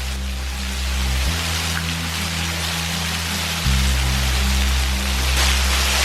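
Heavy rain pours during a nighttime thunderstorm, a dense, steady hiss that fills the whole stretch, with a low electrical hum droning beneath it.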